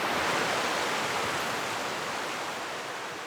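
Ocean waves crash onto a rocky beach in a sunny cove where a creek meets the sea, forming a steady, dense roar of surf and spray that stays loud and even throughout, with no voices.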